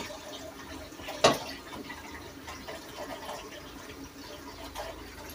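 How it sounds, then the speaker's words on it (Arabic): Hot water pours into a pot for boiling pasta for koshari, a soft, steady trickle and splash at moderate distance with a brief louder splash early on. "بحط ميه"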